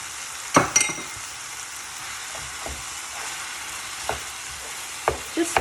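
Minced meat browning in a hot pan, salted and stirred; a steady soft sizzle with occasional scraping clicks of the spoon, no talking.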